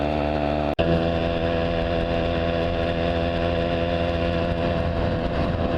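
Small engine on a motorized bicycle running steadily on a ride, a buzzy constant drone with a single brief dropout near the start, loud and close with no talking.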